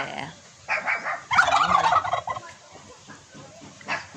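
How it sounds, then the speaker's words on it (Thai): A turkey displaying its spread tail gobbles in short bursts near the listener, with a louder burst in the middle and quieter background sounds in between. "แผ่หางมันใหญ่มากเลยเนาะไก่งวง"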